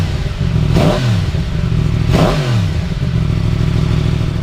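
Yamaha MT-10 motorcycle fitted with a titanium Akrapovič exhaust revving up twice, close and loud, each sharp blip climbing then falling back to a steady, deep idle.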